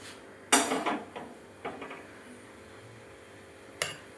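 Hot spinach and poppy-seed curry (palong posto) being served into a dish: a loud clatter of a utensil against cookware, a few softer scrapes, then a final sharp clink, with a low hum underneath and no voices.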